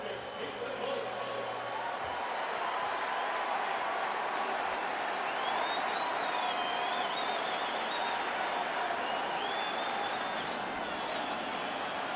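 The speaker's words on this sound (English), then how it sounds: "It's a fired up crowd." A stadium crowd at a 2003 NFL game between the New England Patriots and Indianapolis Colts cheers and applauds in a continuous dense roar, with whistles piercing through and commentators talking over it.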